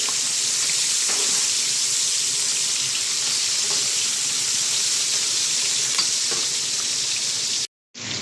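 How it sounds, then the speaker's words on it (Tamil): Masala frying in a pan for mandi biryani, a dense, loud, continuous sizzle and hiss heard up close with a few faint stirring clicks, cutting off abruptly near the end. "சும்மா 1 நிமிஷம் வதக்கினா போதும்"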